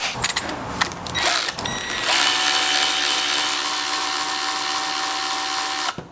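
A Gearwrench 18-volt cordless ratchet on an economy 1.5 Ah battery gives a few sharp clicks, then a steady, close-up motor whine that runs alone for about four seconds before cutting off.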